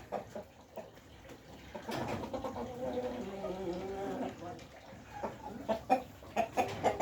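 Chickens, including black hens, cluck and call around a rural yard, with rhythmic clucks growing louder toward the end, mixed with a voice speaking nearby.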